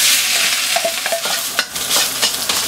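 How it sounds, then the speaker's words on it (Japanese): Cooked rice is stir-fried over very high heat in a smoking-hot iron wok, giving loud, close sizzling with quick scraping and tossing clatters of the spatula. "そして引き続き強火でご飯を炒めます。"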